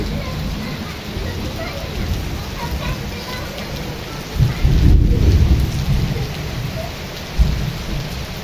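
Steady heavy rain pours throughout in a village in Odisha, with deep rumbles of thunder swelling midway and another brief low roll near the end.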